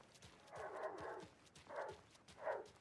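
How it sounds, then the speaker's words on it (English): Dog in Alan Wake II barking loudly three times, a long bark and then two shorter ones spaced about a second apart, set against a quiet, dim game background. "that dog is very loud"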